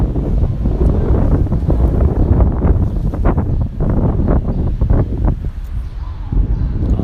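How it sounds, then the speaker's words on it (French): Loud wind buffeting the microphone in gusty, rumbling bursts at a rainy train station, steady throughout with no clear voices. "c'est en même temps un petit peu difficile de filmer, surtout à cause du vent"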